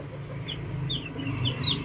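Small chirps from a first batch of baby chicks, faint high peeps scattered over a low background hum.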